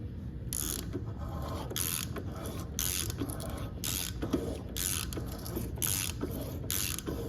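An LS exhaust O-ring cutter turns and cuts, giving close, rhythmic scraping and ratcheting bursts that repeat about once per second with each revolution.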